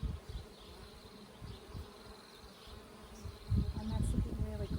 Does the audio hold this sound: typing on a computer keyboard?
no